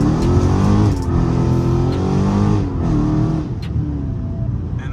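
A Dodge Challenger Scat Pack on launch control roars through a full-throttle start, a loud, heavy engine note that climbs, drops briefly at a shift, then surges again before easing off.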